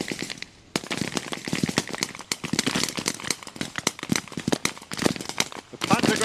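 Rapid, crackling bursts of blank gunfire, including automatic weapons such as MP40s, during a reenacted WWII firefight at a tank museum show, dense and continuous with shots close and far, while a commentator talks over it.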